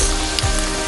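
Breadcrumbed lamb pieces deep frying in hot oil, a steady close crackle and hiss throughout, no talking.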